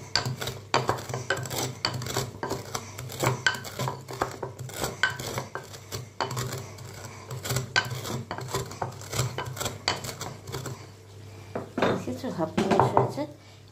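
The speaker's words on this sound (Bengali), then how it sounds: "এই যে মশলাটা ভেজেছিলাম আমি এটা হাফ ক্রাশ করে নেব" Roasted whole spices being half-crushed by hand for a Bengali mutton dish give a steady run of dense grinding, knocking and scraping in a hard vessel. It stays close and fairly loud for the whole stretch, with no speech.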